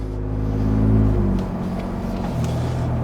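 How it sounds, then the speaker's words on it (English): A 2021 car fitted with an AWE Tuning single rear exit exhaust drives along, its deep, droning exhaust note rising slightly and then settling as it cruises steadily. "still sounds good. Definitely still know there's an exhaust on there."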